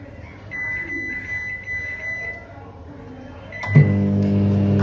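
A microwave oven reheating biryani hums steadily, then its beeper sounds near the end as the hum shifts into a louder, richer drone, with faint household background throughout.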